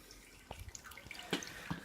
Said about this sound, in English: the rest of the grain just dripping in that bucket